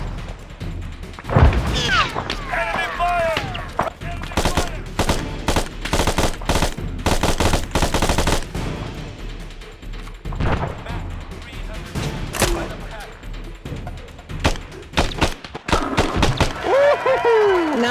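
Dense gunfire in the Arma 3 video game: rapid bursts and single shots, close and loud, mixed with booms, with people talking over the firing.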